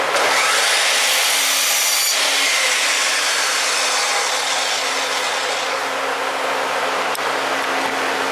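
Sawing through the wooden end of a handmade tool wall holder, a steady, close rasping stroke that runs continuously and fairly loud, with no talking.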